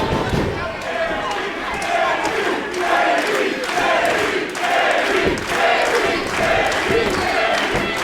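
An arena crowd at an MLW wrestling National Openweight Championship match cheers and chants loudly in rhythmic waves, with thumping beats and a voice carrying over the noise.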